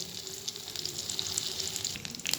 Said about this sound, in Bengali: একটু লো ফ্লেমে বেশ কিছুক্ষণ ধরে ঘুরিয়ে ফিরিয়ে মাছটিকে লাল লাল করে ভেজে নিতে হবে সুন্দর করে।